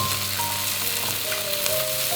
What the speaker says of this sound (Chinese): 锅热倒油，鱼先给它下锅煎一下